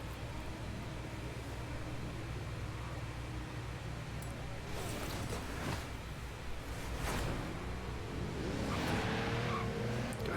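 Lamborghini Urus SUV driven in Forza Horizon 3, its engine a steady continuous drone with tire squeal and skidding swells toward the end, no talk over it.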